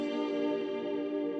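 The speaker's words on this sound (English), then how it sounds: "we have this electric guitar that plays the exact same guitar chords, except it's on electric guitar" Electric guitar sustaining a chord with reverb and wavy modulation, a steady layered tone that rings evenly and loud for its whole length, with no talking.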